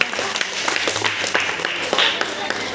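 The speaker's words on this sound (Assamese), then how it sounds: "হাত চাপৰি এটা দিয়া আকৌ চবেই" An audience claps at a magic and science demonstration, a dense ongoing patter of many hands with talk mixed in underneath.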